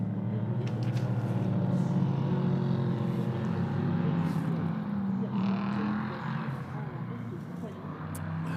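Prototype race cars on a formation lap at Magny-Cours during a European Prototype Sprint Cup round, a steady engine drone from several cars heard at a distance under continuous track commentary.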